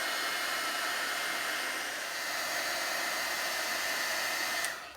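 A heat tool blows hot air over puff paint on a craft project, a steady, loud rushing hiss that holds evenly for several seconds before cutting off near the end.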